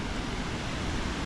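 Rushing water from the twin waterfalls of Itapecuru in Chapada das Mesas makes a dense, steady roar that holds evenly for just over a second before cutting off abruptly.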